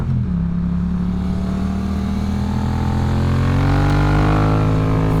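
A motorcycle engine revs hard through a wheelie, its rising harmonic whine climbing steadily in pitch and loudness, close and continuous for several seconds with no talking.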